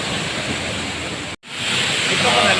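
Marangig Falls in Maragusan, Davao de Oro pours down with a loud, steady broadband rush of falling water, close to the microphone, broken by a brief dropout midway.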